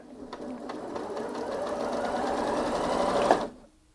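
A Janome Memory Craft 8200QCP SE sewing machine runs at top speed, a fast, dense whirring buzz that builds for about three seconds before cutting off abruptly, close and loud.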